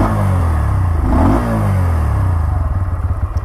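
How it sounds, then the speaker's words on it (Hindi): Bajaj Pulsar N125 motorcycle engine revving while stationary, a loud close rise and fall of engine pitch followed by a steady idle putter from the underbelly exhaust, no talking. "इसको मैं रेव करके दिखाता हूँ आपको।"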